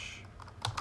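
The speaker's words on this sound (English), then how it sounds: "So if I type SSH" A few quick, light keystrokes on a computer keyboard while entering an SSH command, faint and brief in a quiet room.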